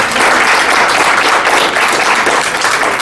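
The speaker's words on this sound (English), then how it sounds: "Let's give him another round of applause" Loud, dense applause fills a school district meeting room, a continuous close wash of clapping hands that holds steady throughout.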